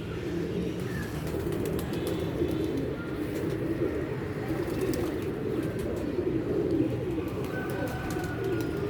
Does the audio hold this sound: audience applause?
no